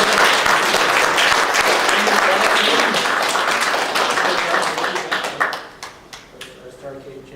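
Audience applause at a Space Invaders Q&A session, a dense burst of many hands clapping that thins into scattered claps toward the end.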